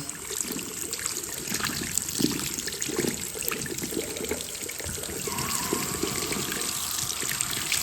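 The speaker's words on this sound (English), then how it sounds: "Just get the tap going." Water runs steadily from a bathroom tap, a continuous close trickle and splash into the sink basin throughout, with no talking.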